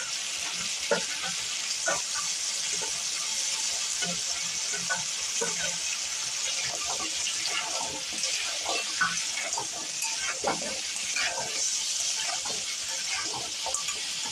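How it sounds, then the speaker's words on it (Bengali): Crab pieces and claws fry in hot oil, a steady close sizzle with frequent crackles and the scrape of stirring, while a voice talks faintly beneath. "এইভাবে কাঁকড়াগুলো আমি ভেজে নেব।"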